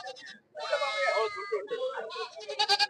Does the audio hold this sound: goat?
yes